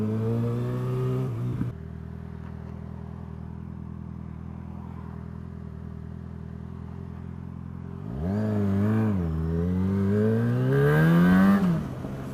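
Motorcycle pulling away from a stop with an idle hum, then a loud rising engine rev as it accelerates hard, the pitch climbing through a gear change near the end.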